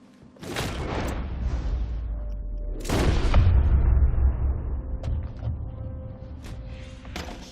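Gunshots in Red Dead Redemption 2 during a saloon robbery standoff: two sharp, loud cracks a couple of seconds apart, each leaving a booming echo and a rumbling tail, followed by faint mechanical creaks and clicks, with no talking.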